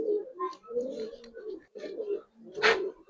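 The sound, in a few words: Giribaz pigeons cooing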